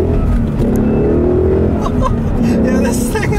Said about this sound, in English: I'll leave you guys the nice little acceleration here like I always do.